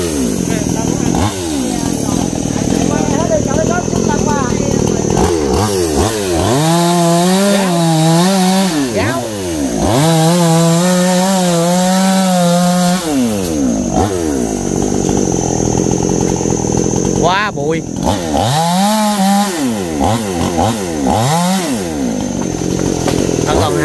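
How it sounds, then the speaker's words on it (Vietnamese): Chainsaw cutting into a gáo tree outdoors, its engine rising and falling in pitch through repeated revving bursts, loud and close, with people talking at times. "Ba có đoàn cưa cái cây gáo trước."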